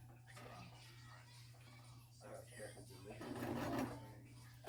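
Sewing machine stitching a chin strap onto a hat, a quiet mechanical whir with a steady low hum, with people talking over it close by.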